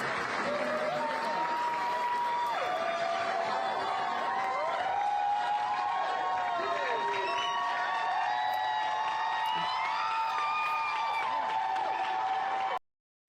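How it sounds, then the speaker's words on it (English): A large indoor crowd applauds and cheers continuously in the Tennessee State Legislature chamber, with whoops and shouts rising over sustained clapping in a reverberant hall. "to tremendous applause."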